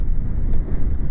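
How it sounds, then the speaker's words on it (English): Wind buffets an outdoor microphone in steady, low rumbling gusts throughout, close and fairly loud, with no talking. "It's a little bit windy out here."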